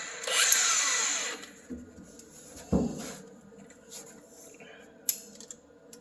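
A power tool grinds loudly for about a second during transmission work on a Ford F150, then gives way to quieter clanks and metallic taps in a workshop, with a sharp knock near the end.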